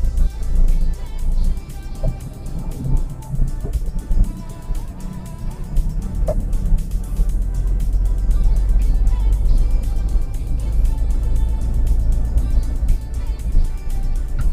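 A manual car idles and pulls away as the clutch is let out slowly with light throttle, the engine rumble rising gradually and steadily, with a few faint background sounds.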